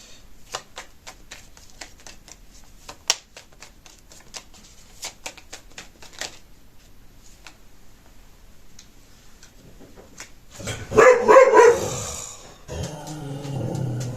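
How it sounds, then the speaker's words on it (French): Dogs in a quiet home: faint ticking and clicking run through most of the stretch, then a dog lets out a short, loud, close bark-like burst near the end, followed by softer rustling. "Je crois qu'il n'y aura pas une seule vidéo où vous n'entendrez pas mes chiens."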